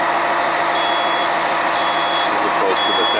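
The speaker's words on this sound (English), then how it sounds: "The beeping sound, of course, is the low air pressure warning." A low air pressure warning on a bus beeps steadily in a repeated electronic pattern over a constant idling engine rumble, loud and close.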